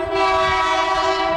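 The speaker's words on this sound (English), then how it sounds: "Do me a favour, just try the horn." A 2020 Toyota GR Yaris, a 1.6-litre turbo three-cylinder hatchback, sounds its horn in one steady, loud, sustained tonal blast with no talk.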